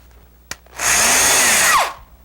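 A power drill driving screws into L-girder wooden benchwork, a single close, loud whirring burst of about a second that winds down at the end, after a faint click.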